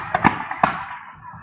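Fireworks at a powwow burst in a quick run of sharp cracks and pops, a few close together, with a fading crackle trailing after them.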